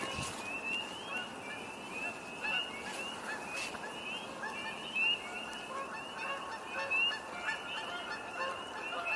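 Canada geese honk repeatedly at a distance during an evening walk outdoors as more birds fly in, their calls rising and falling in a steady, overlapping chorus over soft ambient background noise.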